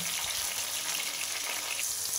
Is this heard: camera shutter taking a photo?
no